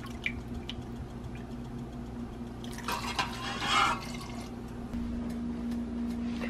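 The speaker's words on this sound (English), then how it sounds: "And then add a cup of apple cider vinegar." Apple cider vinegar is poured from a cup into a pot of chopped jalapeno peppers on the stove, a short liquid splash and trickle amid faint kitchen drips and a low steady hum, no talking.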